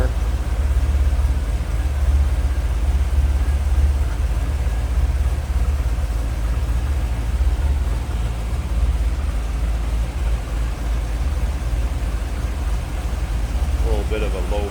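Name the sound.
2003 Chevrolet Corvette Z06 engine idling with lopey idle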